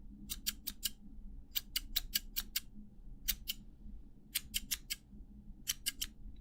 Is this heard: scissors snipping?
yes